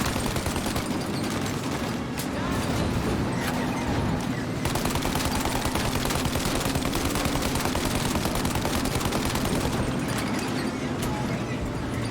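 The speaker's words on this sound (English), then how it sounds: "Shoot out the windshield!" Sustained automatic gunfire in a Mafia Definitive Edition car chase, dense rapid bursts that barely pause for about twelve seconds, loud and close, with engine roar underneath and shouting voices mixed in.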